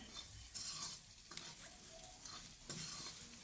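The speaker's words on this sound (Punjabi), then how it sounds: "ਤੜਕੇ ਨੂੰ ਚੰਗੀ ਤਰ੍ਹਾਂ ਭੁੰਨਣਾ ਬਹੁਤ ਜ਼ਰੂਰੀ ਹੈ" Onion-and-spice tempering roasting in a pan with salt, a faint steady sizzle with soft spoon scraping and stirring, heard close with no talking.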